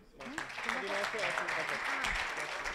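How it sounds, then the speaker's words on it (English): A startup pitch event audience claps for a presenter, a broad wash of applause rising quickly after a brief quiet start, with voices and chatter mixed underneath. "a nice round of applause for Dirk"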